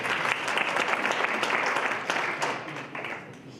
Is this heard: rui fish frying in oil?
no